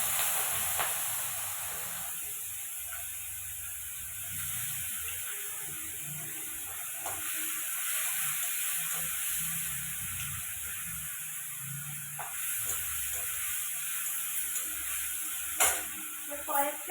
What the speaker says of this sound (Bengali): আমি অর্ধেকটা মশলা আমি কড়াইয়ের মধ্যে দিয়ে দিচ্ছি